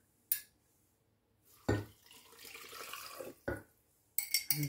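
Saffron-soaked water is poured into a tanjia pot for a Marrakech-style farm chicken tanjia: a short, steady close-up pour framed by sharp clinks of kitchenware.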